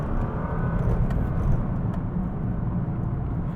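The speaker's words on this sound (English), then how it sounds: "You can hear the turbochargers coming in, just the whooshy noises to it all, and the transmission putting down its power." A Nissan GT-R R35 under acceleration gives a continuous broadband rush of turbocharger whoosh and drivetrain roar from its dual clutch transmission, loud and steady throughout with no voices.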